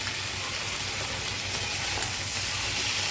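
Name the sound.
fish frying in spiced oil with turmeric and green chilli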